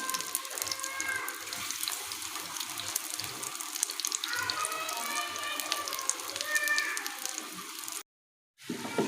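Eggplant slices frying in hot oil give a steady, hissing sizzle with crackly bubbling throughout, followed by a brief drop to silence near the end.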